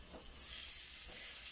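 Syrniki, Russian cheese pancakes, frying in a hot pan, giving a steady broad hiss and sizzle that swells after a short pause and holds close and loud, with no talk.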